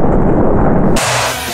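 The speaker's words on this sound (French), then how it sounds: "Explosion." A short, heavy explosion sound effect hits with a broad deep roar that cuts off abruptly into a brief rumbling tail, loud and close, with no voices.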